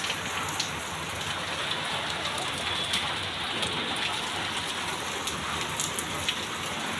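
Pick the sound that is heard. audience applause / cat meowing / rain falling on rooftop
rain falling on rooftop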